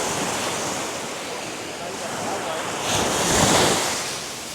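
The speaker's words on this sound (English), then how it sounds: "the waves definitely keep you entertained on a smaller boat." Ocean waves and wind rush past a small boat at sea off the Dominican Republic, a continuous loud wash of surf and microphone wind that swells briefly toward the end.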